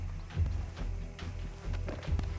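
A horse bolting away in RedM, a Western role-play game: dull, rapid hoofbeats drum against a low rumbling background, with no voices over them.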